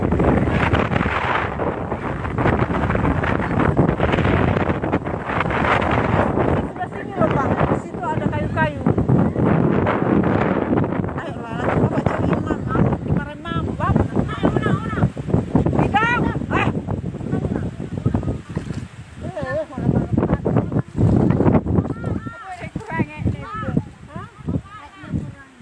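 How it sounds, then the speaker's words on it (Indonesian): Strong wind buffets the microphone in loud, roaring gusts for the whole stretch, with people talking and calling out over it. "Angin kencang."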